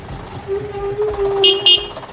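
A bus pulls up at a hotel entrance, its engine humming steadily with a sustained tonal drone, followed by two short, bright horn toots near the end.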